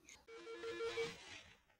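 A telephone rings with a repeated electronic trill, faint and somewhat distant, sounding alone without any talk over it.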